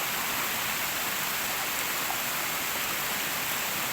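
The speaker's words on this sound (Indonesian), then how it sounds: "tiba-tiba turun hujan lagi" Steady rain pours down at a swimming spot in Lembah Tepus, Bogor, a dense, constant hiss of water on surfaces filling the whole clip without any voices.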